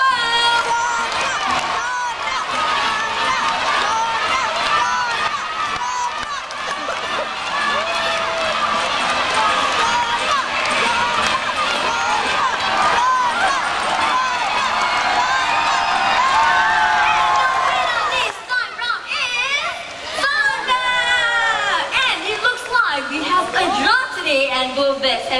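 A large crowd of spectators at a bird flight show in Jurong Bird Park, Singapore, cheers and shouts in a loud, sustained roar for about eighteen seconds, then quiets as a voice speaks over lighter crowd noise.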